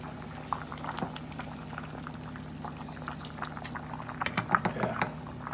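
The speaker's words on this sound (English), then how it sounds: "let me look at the pasta. It's starting to boil again." Pasta water boiling in a pot, a steady bubbling and popping that grows busier toward the end, close and moderately quiet, with no talking.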